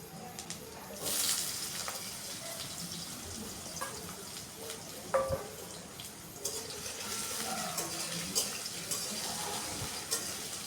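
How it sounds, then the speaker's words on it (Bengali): Cut potatoes are lightly fried in oil tempered with dried chili, bay leaf and five-spice: a soft, continuous sizzle with occasional scraping and stirring clatter, close but fairly quiet. "আলুগুলোকে হালকা ভাজতে হবে।"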